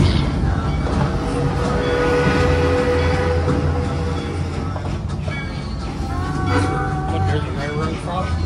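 An amusement park train rumbles along steadily with a continuous low drone and faint rail clatter, heard from inside, with people talking over it.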